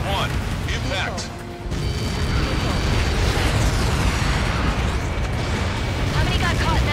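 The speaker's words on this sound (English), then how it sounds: "How many got caught in that explosion?" A huge explosion in the Ace Combat 7 video game rolls out as a loud, sustained roar with a deep rumble and crackling debris. A brief dip comes early, then a long boom with sharp bursts near the end.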